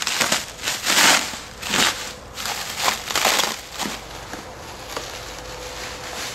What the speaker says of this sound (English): Alright, let's unwrap this sucker.